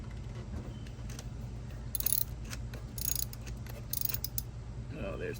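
Ratcheting and clicking of a hand tool tightening a coolant hose clamp on a Hemi thermostat housing, a few short metallic bursts close by over a steady engine-bay hum.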